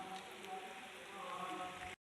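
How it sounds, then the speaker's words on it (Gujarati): Steady, dense rain pours down among hills at Har Gangeshwar Mahadev temple, Hathidra, and patters on a surface, a constant wash of sound with no voices, cutting off abruptly at the end. "જબરજસ્ત વરસાદ ચાલુ હ"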